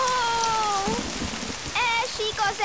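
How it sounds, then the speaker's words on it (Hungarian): Rain patters steadily in a children's cartoon picnic scene, a continuous soft hiss of drops on surfaces, while animated characters talk over it with bright, sing-song voices. "Esik az eső!"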